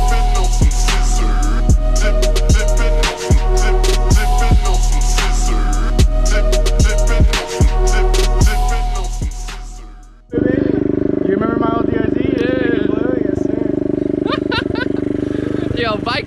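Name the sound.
pit bikes revving and racing on street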